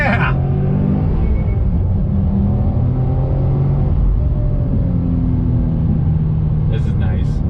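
A Honda Civic Type R accelerates hard under throttle with a loud, rising engine drone and rumble heard from inside the car, while a voice talks excitedly over it.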